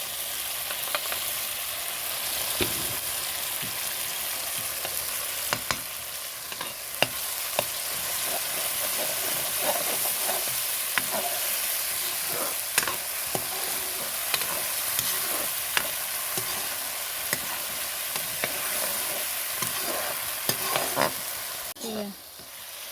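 Tomato paste fries in a pan with a steady, dense sizzle, while a utensil stirs and scrapes through it in repeated, close scraping strokes, with no talking over it.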